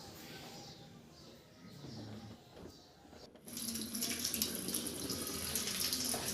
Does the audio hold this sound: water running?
yes